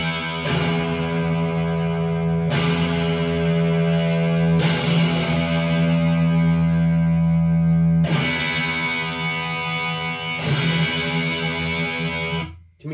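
Heavily distorted electric guitar chords played through an MXR Custom Badass '78 Distortion pedal ring out and sustain, struck about five times with buzzy, saturated tone, played alone.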